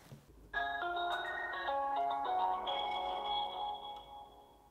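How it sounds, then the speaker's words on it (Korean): A melodic telephone ringtone chimes in a short repeating pattern as a call connects, moderately loud and alone, then fades slightly as it continues. "첫 번째 사례자 한번 전화 연결을 해보겠습니다"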